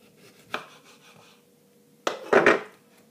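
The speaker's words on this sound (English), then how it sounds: "now you can begin chopping just some of it, not much" A knife chopping salad vegetables on a board, a single knock followed by a pause, then a short quick burst of cutting strokes close to the microphone in a quiet kitchen.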